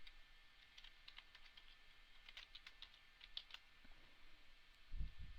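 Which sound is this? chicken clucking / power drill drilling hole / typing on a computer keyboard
typing on a computer keyboard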